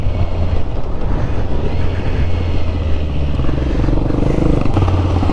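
Motorcycle engine droning steadily while riding, a loud continuous low rumble with wind noise and no speech.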